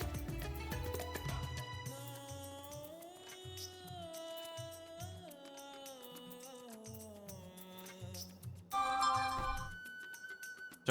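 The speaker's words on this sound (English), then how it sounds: "So that's my phone notifications." A phone notification tone from a Twitch stream, heard as a brief bright chime that cuts in near the end over steady background game music.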